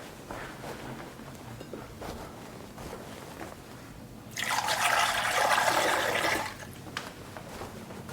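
Spring water poured for a chicken meat stock made with a whole chicken, feet and heads: a steady, loud rush of water for about two seconds midway, with quieter kitchen noise before and after.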